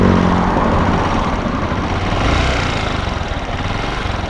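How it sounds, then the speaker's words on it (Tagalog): Engine of a Honda TMX motorcycle, warmed up and running with a persistent ticking fault, a steady close idle with a low rumbling throb and a fast rhythmic chatter, loud and alone with no talk. "parinig ko sa inyo yung makina"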